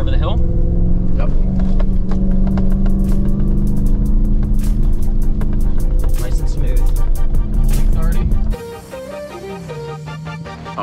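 A Ram TRX pickup truck's engine roars loudly and steadily in second gear as it comes over a hill, then cuts off abruptly near the end. People talk excitedly over the noise.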